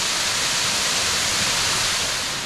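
A hidden waterfall at Zirad pours in a dense, constant roar of falling water, loud and close with no pauses.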